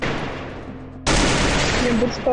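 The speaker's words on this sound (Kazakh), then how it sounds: "бізде төбеде атыс кетіп жатыр" Bursts of gunfire in a battle video game, a quieter stretch of rumbling background followed by a sudden loud, sustained fusillade of rapid shots that continues to the end.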